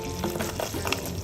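Semolina (rava) roasting in a pan over low to medium heat, a soft, low-level frying crackle with faint scattered clicks, quiet and without speech.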